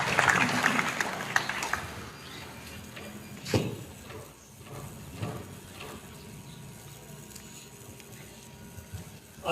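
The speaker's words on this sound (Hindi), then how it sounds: "जोरदार तालियों के साथ स्वागत" Applause welcomes a guest at a Republic Day ceremony in a hostel. Dense clapping is heard in the first two seconds, then it thins into scattered, fading claps and quiet room noise.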